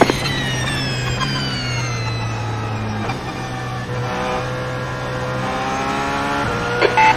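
Porsche 919 LMP1 prototype engine screaming around Monza in iRacing, a continuous high-pitched whine with rising gear sweeps and brief shift dips, steady and loud throughout with no talk.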